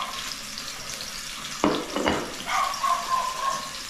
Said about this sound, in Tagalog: Masarap yung prito ang talong pagka niluto mo.